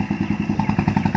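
A Bullet motorcycle pulling two trailers thumps along with a rhythmic single-cylinder beat, loud and close, its engine pulses evenly spaced and steady.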